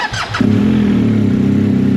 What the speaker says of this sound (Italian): Facciamo scaldare i motori.